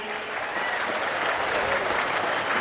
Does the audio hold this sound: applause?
yes